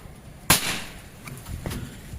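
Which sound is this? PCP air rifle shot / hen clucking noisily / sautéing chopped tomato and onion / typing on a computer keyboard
PCP air rifle shot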